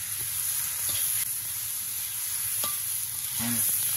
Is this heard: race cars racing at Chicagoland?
no